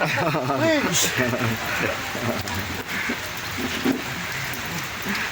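Rain pours steadily outdoors in Zamboanga City, a continuous hiss of drops on surfaces heard close around while people talk over it.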